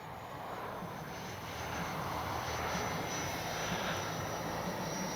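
A Freewing Baltic Bees 64mm EDF L-39 RC jet flies by with a steady, breathy ducted-fan whoosh that grows slightly louder, heard from a moderate distance over faint outdoor wind.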